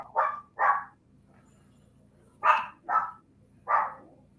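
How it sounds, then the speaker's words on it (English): Small dogs bark sharply nearby in two separate groups of quick yaps, two barks and then three, with quiet pauses between. "You hear my little dogs going off there."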